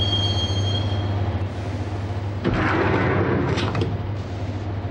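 A subway train ride in the video game Max Payne, with a loud steady rumble and low hum of the moving car, broken by a harsh metallic clatter and screech partway through.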